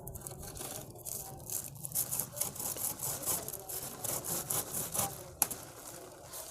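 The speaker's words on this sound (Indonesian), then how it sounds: "Seperti ini mau saya potong dengan gergaji ya, kita potong gergaji di sini." Hand saw cutting through a croton plant branch, a close, steady back-and-forth rasping of strokes ending in a sharp snap, with no talk.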